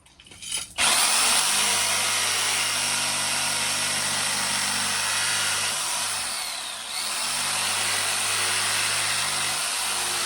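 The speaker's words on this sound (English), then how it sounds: "we've just put on a new sanding disc onto the sander" A power sander fitted with a fresh sanding disc starts up with a thump and runs loud and steady for several seconds, a harsh high whine over a low motor hum, briefly dipping once midway.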